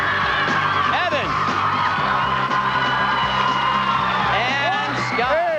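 Studio audience on a 2003 dating game show cheering and whooping loudly and continuously, with shouts and screams rising over a dense crowd roar throughout.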